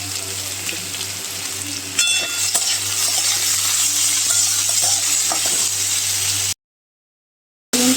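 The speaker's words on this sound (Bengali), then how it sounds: "উচ্ছে আলু আর কাঁকরোল ভাজা হবে" Bitter gourd, potato and teasel gourd fry in a pan with nigella seeds and green chillies, a continuous close sizzle that cuts out briefly before returning.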